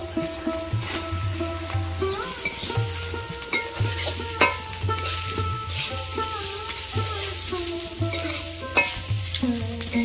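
Mung and masoor dal are stir-fried in a pan, with a steady sizzle under repeated scraping and clinking strokes of a spatula at an uneven rhythm. It sounds close and moderately loud, with no voices.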